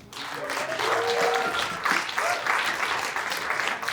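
A room full of people clapping, the applause swelling and holding steady, with faint voices and a whistle or cheer mixed in.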